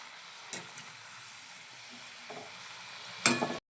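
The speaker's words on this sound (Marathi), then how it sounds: "मंडळी हे पहा फ्रेंच फ्राईज जे आहे ना तर ते बनवणं चालू आहे" French fries frying in a pan over low heat after a cornflour coating, a steady soft sizzle broken by a few sharp scraping clinks near the start, middle and end, with no one speaking.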